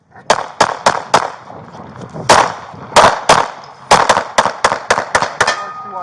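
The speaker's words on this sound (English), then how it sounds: "Shots fired, he's down" Police gunfire in a park: a rapid string of about fourteen loud, sharp shots in close bursts, some clustered in quick pairs and triples with brief gaps, heard close and dominating the scene.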